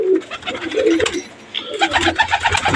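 Loud, close cooing from racing pigeons, including a well-flown hen, rolling in overlapping bursts with a busier stretch of repeated coos toward the end.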